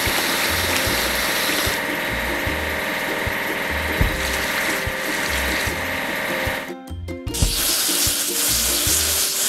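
A toy timber loader being washed with water: a constant rushing spray with a rhythmic mechanical thumping underneath, loud and close, briefly cutting out before the flow resumes.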